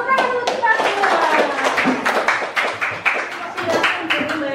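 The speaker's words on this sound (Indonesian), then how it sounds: "Tepuk tangan untuk kita semua." Classroom group clapping together in a lesson, a quick run of sharp, close hand claps in an uneven rhythm with children's voices mixed in.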